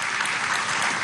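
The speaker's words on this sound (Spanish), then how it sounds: "Aplauso a todo el Guárico, los esteros de Camagüán" Crowd applause at a Venezuelan school-term opening event for secondary students, a steady dense patter of many hands clapping without pause, fairly loud and even throughout.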